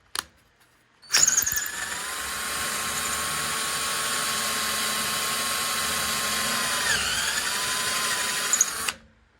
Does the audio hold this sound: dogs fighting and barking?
no